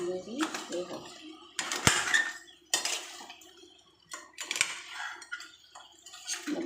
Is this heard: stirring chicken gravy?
yes